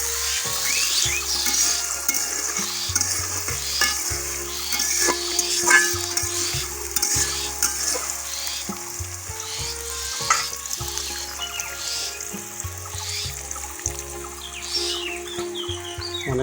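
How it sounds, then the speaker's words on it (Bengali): Onions fry in a pan and are stirred again and again, soft sizzling broken by rhythmic scraping strokes, while birds chirp and a rooster clucks in the rural background. "পেঁয়াজটা ভেজে নিই।"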